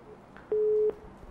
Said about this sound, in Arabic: أسف جدا أبو علي انقطع التلفون